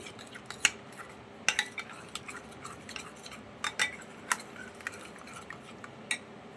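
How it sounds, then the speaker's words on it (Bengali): A spoon or whisk beats sugar, salt, chaat masala and roasted cumin powder into a lassi mix, giving close, irregular metallic clinks against the vessel with no talking. "আমি খুব ভালো করে একটু ফেটিয়ে নিচ্ছি"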